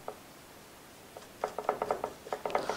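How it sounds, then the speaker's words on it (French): Nut being tightened onto a skateboard axle with a wrench or skate tool after the washer goes on, giving a quiet run of quick metallic ratcheting clicks in an uneven rhythm, close by with no talking. "On met sur notre rondelle, puis l'écrou. Et on visse tout ça."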